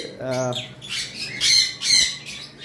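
Conure parrots give several harsh, piercing squawks in quick succession at close range, each loud and abrupt, with short gaps between calls.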